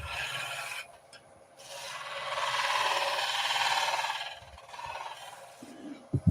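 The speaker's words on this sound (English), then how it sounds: "rotating this spindle gouge over and then back out again as we come to the bottom of the cove" A spindle gouge cuts a cove into wood spinning on a lathe. The hiss of the cut rises and falls in long passes, with brief pauses and a couple of knocks near the end.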